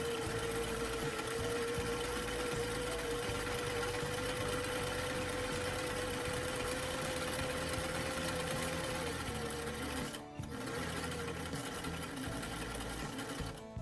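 A sewing machine runs steadily while stitching doll thigh highs, a continuous whirring hum for several seconds that breaks off briefly near the end before resuming.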